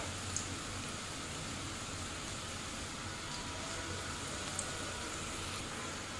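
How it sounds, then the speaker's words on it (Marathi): Bottle gourd koftas sizzling steadily in hot oil over medium heat, a dense continuous frying crackle with faint pops throughout, no talking. "तर हे बघा कोफ्ते मी टाकून घेतले। आता मी मीडियम गॅसवर सोनेरी रंग येईपर्यंत छान तळून घेऊया।"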